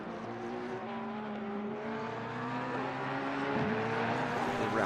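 Porsche and McLaren race cars battle for ninth place in a racing video game endurance event at Zolder, engines droning at steady high revs with rising pitch lines, loud and continuous with no talk.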